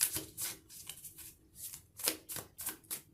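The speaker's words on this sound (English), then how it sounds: "I'll just give them a quick shuffle to freshen up the energy" A deck of tarot cards is shuffled by hand, giving soft riffling bursts that repeat in a loose rhythm, close and quiet, with no voices.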